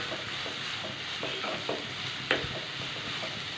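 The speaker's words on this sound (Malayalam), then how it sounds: "ഇനി ഇത് നമ്മളിതൊന്ന് ഇളക്കിയിട്ട് നന്നായിട്ട് ഇതൊന്ന് വഴറ്റിയെടുക്കണം." Onions sauté in oil over a high flame, a constant sizzle broken by scraping clicks of a spoon stirring the pan, fairly close and moderate in level.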